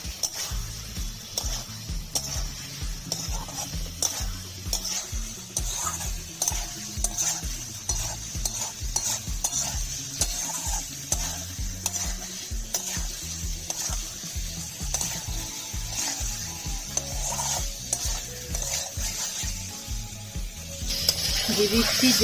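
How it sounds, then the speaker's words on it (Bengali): Fried eggs and potatoes are stirred into a thick masala in a pan, with continuous rhythmic scraping of a spatula over a soft, steady sizzle. "ভেজে রাখা ডিম আর আলু দিয়ে দেব, মশলার সাথে ভালো করে মিশিয়ে নেব।"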